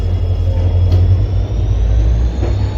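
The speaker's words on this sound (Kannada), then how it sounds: "ನಮ್ಮ ಚಾಮರಾಜನಗರ ಪ್ಯಾಸೆಂಜರ್ ಸ್ಪೆಷಲ್ ರೀ ಇದು." The Mysuru–Chamarajanagar passenger special, train 06543, running along the line, heard from on board as a loud, continuous low rumble with steady rolling drone and no talk.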